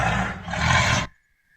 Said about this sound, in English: To these sounds soon were added the terrifying roars of tigers as they hungrily sought the jungle byways.